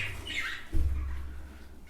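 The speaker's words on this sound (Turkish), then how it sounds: "erkek kuşlar daha böyle gürültülü" Male birds squawk in a breeding room, one or two short harsh calls over a low steady hum, fairly faint and close.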